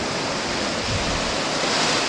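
Ocean waves swirl around a rock on a beach at dawn, a steady broadband wash of surf that fills the whole stretch at an even, close level with no voices.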